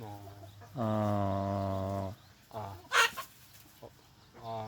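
Chickens at a country farmhouse let out a long, drawn-out tonal cluck, then several shorter clucks and a brief scratchy rustle, close by and fairly quiet, with no talk over them.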